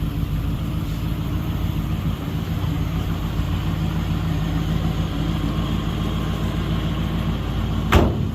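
A 1952 Ford F4 truck engine idles steadily with a low, even rumble close by, holding one level throughout, with a brief sharp knock near the end.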